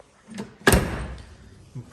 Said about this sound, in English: Door even closes decent.